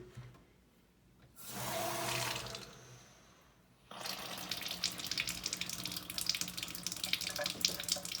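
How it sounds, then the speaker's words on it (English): Water pours from a kitchen faucet fitted with a PUR filter, a steady hiss that swells briefly, eases, then settles into a continuous strong rush with no voices. "turn the water on and run it for 5 minutes"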